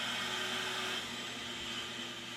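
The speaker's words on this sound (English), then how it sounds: "clean off the outside of the bag first, using a shop vacuum and a brush attachment" A shop vacuum fitted with a brush attachment runs steadily while cleaning the outside of a dust collector filter bag, giving a continuous close, loud motor whine and airy rush with no pauses.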